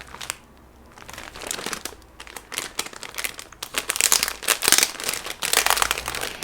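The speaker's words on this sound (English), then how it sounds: "she won't excuse for crinkling because it's a happy noise" Packaging being handled and crinkled, a close, busy rustling and crunching of plastic or paper wrap that swells louder toward the end, with no talk.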